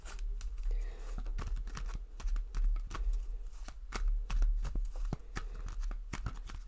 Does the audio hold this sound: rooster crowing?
no